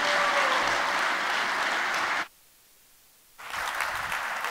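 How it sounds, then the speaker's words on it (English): Loud applause from a ceremony audience welcoming a new mascot and the organizing team at a closing wrap-up session, steady clapping that cuts off abruptly into a second of silence before resuming just as strongly. "please a warm round of applause for our new mascot and the organizing team that will make it happen next year"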